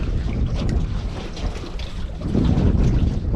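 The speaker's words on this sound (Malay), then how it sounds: "Sejuk betul angin dia ni." Cold wind buffets the microphone during fishing outdoors on the water, a steady loud roar with gusts that swell toward the end. No voices are heard.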